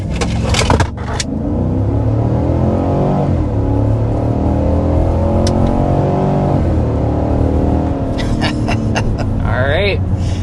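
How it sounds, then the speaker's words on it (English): A 2026 Cadillac Escalade Sport under hard acceleration from inside the cabin: a loud, steady engine roar climbs in pitch through the gears for about ten seconds. "we need to go ahead and start with a hard acceleration"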